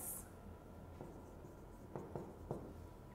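A maths derivation is written out by hand on a board, with a few faint, brief stroke and tap sounds over a quiet background.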